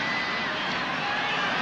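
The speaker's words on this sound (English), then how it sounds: "the crowd applauding this shot because you just don't see players try this sort of thing very often" Stadium crowd at a 1998 World Cup football match between Nigeria and Denmark in France, a broad steady roar of cheering and applause with no single voice standing out.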